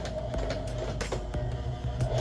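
A sewing machine stitching fabric while making a placemat clutch, a steady close whirring mechanical run with a few sharp clicks, loud and continuous throughout, with no voices.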